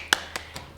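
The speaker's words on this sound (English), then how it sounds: "Go on, give yourselves a clap." A few sparse, sharp claps or taps from a small tap dance class, three distinct quiet hits spaced evenly over a moment, close and dry.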